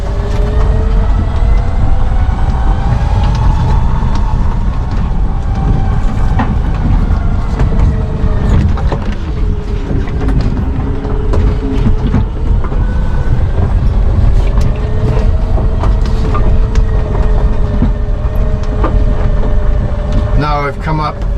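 A Polaris Ranger EV electric utility vehicle tows a Sure-Trac dump trailer, giving a loud, steady close-up rumble with a motor whine that rises and falls as it drives, continuous for the whole stretch.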